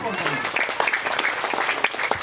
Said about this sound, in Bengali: আমরা তার জন্য একটা করতালি দিই